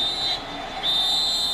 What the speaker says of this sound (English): now we get a whistle on the field.